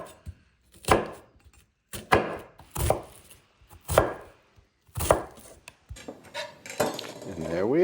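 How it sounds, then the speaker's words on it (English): A kitchen knife dices a large onion on a board in a series of close, sharp chopping bursts separated by short pauses, with a brief clink of utensils toward the end and no talking. "And there we are, perfectly diced onion."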